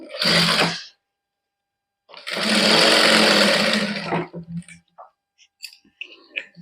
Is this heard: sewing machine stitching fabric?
yes